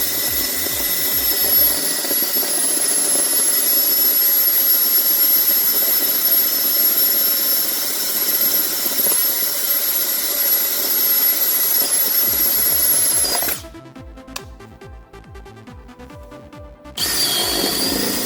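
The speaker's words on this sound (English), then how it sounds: "I'm gonna drill some holes here and you can see how it works" A Makita XDT13 impact drill running at low speed, high torque while boring holes, giving a steady loud whine that holds for about thirteen seconds, cuts off briefly, then starts again.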